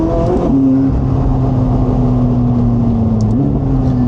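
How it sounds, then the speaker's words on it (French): A McLaren 675LT Spider V8 engine drones loudly and steadily at a held pitch, with a brief rev change near the start and another rise later, heard close from the car. "donc forcément on profite des vocalises du V8"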